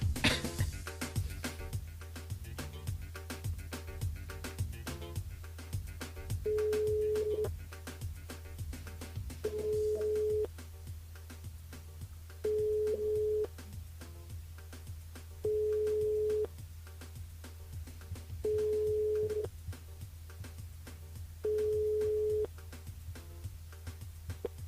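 Repeating telephone ringback tone, six evenly spaced beeps about a second long each, heard while a radio show dials a caller named Gianni near Saint-Pierre, over a steady low hum with no talk.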